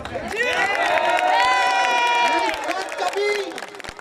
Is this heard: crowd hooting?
yes